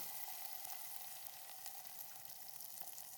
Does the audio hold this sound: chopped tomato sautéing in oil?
yes